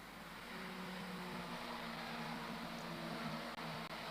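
Race cars pass through Druids under the vehicle bridge at Oulton Park, a steady, loud engine drone with a droning tonal hum that holds throughout.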